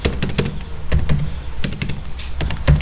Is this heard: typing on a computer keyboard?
yes